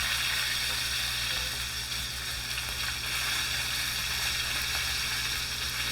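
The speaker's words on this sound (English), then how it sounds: "So that sear is looking pretty nice. I'm going to put it on its edge now." Sous vide NY strip steak searing on its edge in a hot pan, a steady dense sizzle with faint crackles, close and fairly quiet, unbroken for several seconds with no talk.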